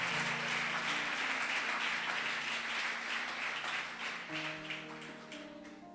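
A church congregation applauds together, a dense steady wash of clapping that tapers slightly toward the end, with faint sustained tones from an instrument underneath.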